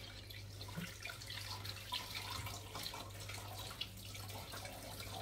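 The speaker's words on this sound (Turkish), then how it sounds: "Patateslerimizi de yıkayalım." Potatoes are washed under a running kitchen tap, water splashing and trickling steadily over a low hum, with faint knocks and rustles from handling, quiet and close.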